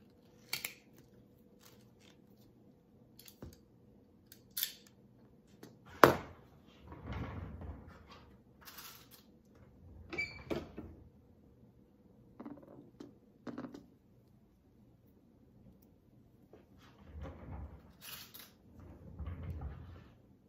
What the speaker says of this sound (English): I'm going to use my hole punch, and I'm going to punch a hole right here, and then I'm going to put a rivet